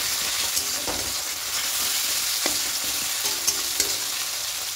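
Chopped onion and tomato sizzle in a pan while softening for an egg curry, a steady close frying hiss broken by a few light clicks of stirring.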